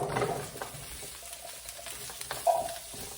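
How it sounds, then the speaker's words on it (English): Halved Brussels sprouts in a one-pan sweet potato hash, frying in a skillet with a low, steady sizzle and occasional light clatter and stirring, close and quiet with no one speaking. "Same pan. Y'all know I love a good one-pan recipe. We're going to put in the Brussels sprouts."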